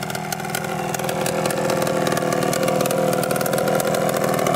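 A Yamaha Blaster quad's small engine idling steadily up close, a continuous rough putter with no revving or voices.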